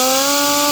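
A Chicago Pneumatic CP9541 half-inch impact wrench with a socket fitted spins freely in a steady, high-pitched whine, sounding weak and without hammering. It runs briefly and alone.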